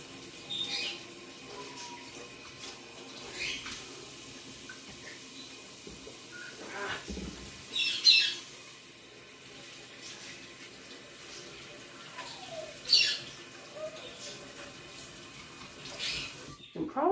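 Tap water running at a kitchen sink while hands are washed of sticky butter, a soft steady splashing with intermittent louder clatters and splashes, fairly quiet overall.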